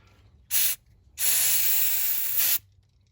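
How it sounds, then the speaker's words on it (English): Electrical contact cleaner hisses from an aerosol can during a starter replacement on a 2001 Subaru Outback: one short burst, a brief pause, then a longer sustained spray, loud and close. "that's the best doggone electrical contact cleaner I've ever seen in my life"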